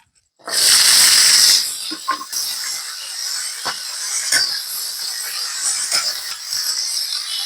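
Data shak greens drop into hot oil with fried garlic for a village-style prawn and greens dish, setting off a loud burst of hissing sizzle that settles into a steady frying crackle.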